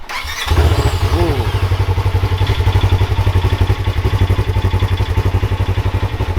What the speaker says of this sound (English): Let's hear it, Max. Cold start it.